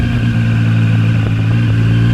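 A ZONTES 703F motorcycle pulls away in second gear, its engine droning steadily and loudly with a smooth, even throttle and no breaks in the sound.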